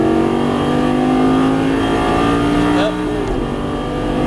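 Lamborghini Gallardo engine pulling hard on a racetrack, a steady loud drone with rising harmonics as the throttle is squeezed, while an instructor talks over it.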